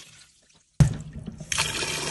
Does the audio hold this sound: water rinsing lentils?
yes